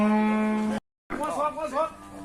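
A cow at a Thai cattle market gives a long, loud, sustained moo, then after a brief gap more lowing-like sounds mix with a voice talking close by.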